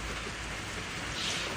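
Steady rain falls outdoors onto a car with a damaged, flaking clear coat, a continuous even hiss of close drops with no pauses.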